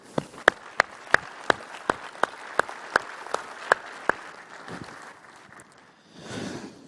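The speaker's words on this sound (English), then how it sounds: "we offer them our congratulations and applause." Scattered, separate handclaps from a small awards-ceremony audience, roughly a dozen distinct claps in an uneven rhythm that thin out and fade, followed by a soft rustle.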